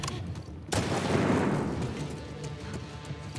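Gunfire in The Last of Us Part 2, a sudden loud burst of shots that breaks in and then rumbles and fades over a few seconds, with no talk.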